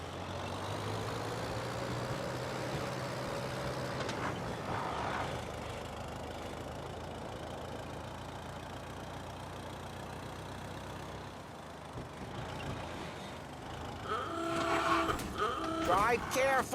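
Car driving through city streets in Mafia Definitive Edition, a steady engine drone with rising and falling revs that carries throughout, with brief bursts of other game sounds near the end.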